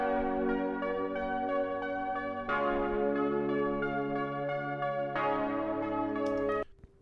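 Broken MIDI chords in a vaporwave arrangement play on a piano-like synth sound, sustained ringing chords changing every few seconds with a bell-like shimmer, steady and alone before cutting off.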